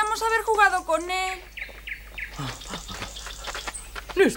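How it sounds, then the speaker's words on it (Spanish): A cartoon bird chirps in a quick series of bright, rising tweets, followed by a voice speaking in an animated Spanish-dubbed scene. "¡Qué pájaro tan bonito!"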